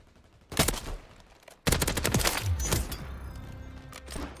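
Sniper rifle fire in the video game Warzone: two sharp, loud shots about a second apart, each with a ringing tail, the second trailing into a longer echoing decay.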